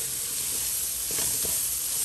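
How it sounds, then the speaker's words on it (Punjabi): Turmeric roasting in a pan for tofu bhurji makes a steady, even sizzle and hiss, with a few faint stirring scrapes partway through, close and continuous. "ਜਿੰਨੀ ਦੇਰ ਆਪਣੀ ਹਲਦੀ ਭੁੰਨ ਹੁੰਦੀ ਆ"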